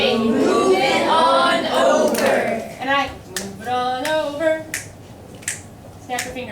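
Sharp finger snaps in a classroom, scattered as separate clicks among a group chanting rhythmically together.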